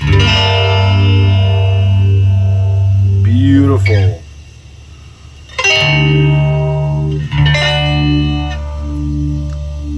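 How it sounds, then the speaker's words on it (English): A 1974 MXR Phase 45 phaser pedal colouring a sustained electric guitar, with sweeping harmonics rising and falling in a smooth phasing wobble across three strummed chords, a short gap between them, and a brief spoken word. "listen to that smooth phasing"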